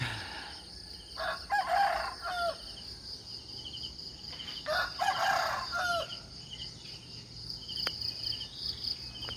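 Roosters crow twice at dawn while the moon is still up, each long call ringing out at moderate distance over a steady bed of chirping insects.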